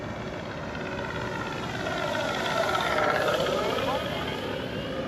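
A FlightLine Corsair RC plane's electric motor whines steadily and loudly at takeoff throttle, a continuous buzzing roar that swells slightly and then eases, with faint talk beneath.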